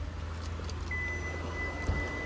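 A 2022 Kia Sorento Sport sounds a thin, steady electronic tone held for over a second as a key warning, under low engine hum and faint outdoor noise, with one soft knock near the end.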